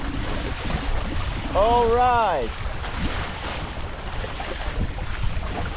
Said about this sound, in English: If the waves will be longer, I will be not complaining.